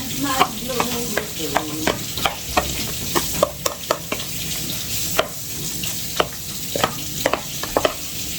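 Pan-fried noodles stir-fried in a hot pan at home, a steady close sizzle broken by repeated sharp scrapes and clacks of the utensil against the pan, with no talking.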